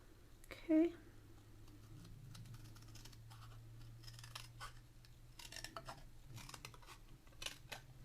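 Scissors cut through a paper card for a DIY vintage valentine cabinet card. Soft snipping and rustling come close but faint, with one sharp brief clack near the start, and a voice talks quietly in the background.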